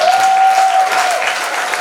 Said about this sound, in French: Applaudissons pour les 83 balais.